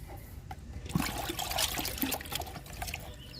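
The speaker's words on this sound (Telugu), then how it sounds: "లిక్విడ్ ఇస్తున్నా మిరప మొక్కలకి" Leftover homemade liquid fertilizer, a mix of lentils, chickpea husk, tea powder and egg powder, poured onto chili plants, a steady close trickle and splash of liquid running for several seconds with small surges.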